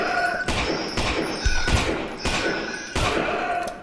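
Gunshots from Lost in Vivo land in a steady series of four or five loud, close blasts about every half-second to a second, each followed by a brief echoing tail.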